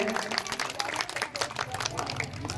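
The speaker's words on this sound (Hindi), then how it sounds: "जोरदार ताली हो जाए बच्चों के लिए।" Children at a stage event get a round of clapping from the audience: a short, uneven patter of hands, fairly faint and roomy, with crowd murmur mixed in.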